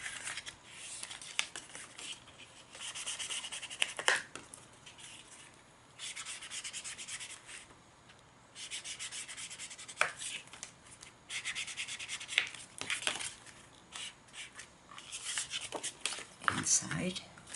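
Ink is rubbed onto a small folded paper clock part in close, soft, dry rubbing strokes that come in short bursts separated by brief pauses.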